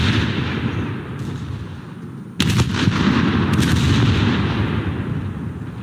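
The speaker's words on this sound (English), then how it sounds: "My secondary gun." The Leipzig cruiser's secondary gun fires one sharp, heavy boom in the naval battle video game War Thunder, with a brief follow-up crack, over a steady loud rumble of engine and sea noise.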